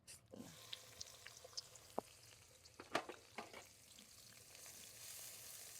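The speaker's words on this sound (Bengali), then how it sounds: "তেল গরম হয়ে গেছে, এখন এই যে পেঁয়াজ দিয়ে দিব।" Chopped onions drop into hot oil in a home kitchen pan, giving a faint, low sizzle broken by a few sharp clinks and stirring knocks, then a broader hiss swelling toward the end.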